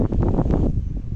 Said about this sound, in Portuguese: Que ventania.